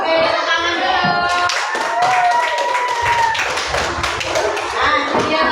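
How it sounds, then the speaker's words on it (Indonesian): A classroom group claps hands after a presentation on making tea, with sharp, irregular claps over children's chatter and a sustained tone, loud and close. "Oke, tepuk tangan dulu."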